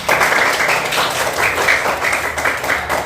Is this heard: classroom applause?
yes